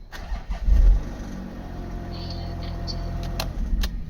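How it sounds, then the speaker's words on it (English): A 2013 Porsche Panamera starting with a key: a short cranking burst that catches into a steady, close idle rumble, with faint clicks and a brief power-window whine near the end. "So we've got key number one, ignition turns on, I can actually start the vehicle"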